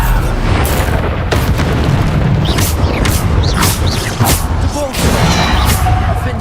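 Loud magical blasts from the Bombarda explosion spell in the Hogwarts Legacy video game, a dense run of booming bursts and pops over continuous rumbling battle noise, with voices calling out between hits.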